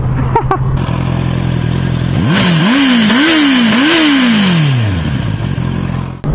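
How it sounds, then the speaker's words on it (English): An inline-four motorcycle engine with stock exhaust idles, then revs up sharply three or four times in quick rising sweeps before settling, loud and close, with a sporty superbike sound. "The inline 4 gives a very, very sporty superbike sound"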